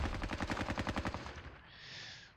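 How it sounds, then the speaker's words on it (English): Rapid infantry gunfire in the Squad Battles Red Victory war game at Ponyri: a fast, steady burst of automatic shots, loud and close, that ends abruptly and leaves a fading hiss. "Let's fire at these infantry."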